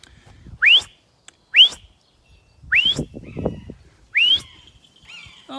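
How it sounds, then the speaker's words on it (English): A person gives four sharp rising whistles to call a falcon at a North Devon bird of prey centre, each short upward sweep separated by pauses, with faint rustling and movement in between. "Let's give a whistle,"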